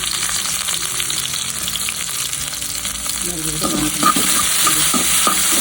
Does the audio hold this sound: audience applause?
no